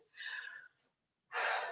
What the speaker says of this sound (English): you're just going to hear me breathing heavily